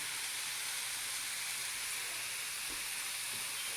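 Steaks sear in a frying pan, giving off a continuous, even hiss and crackle of hot fat close up, with faint low bumps from the pan and no voices.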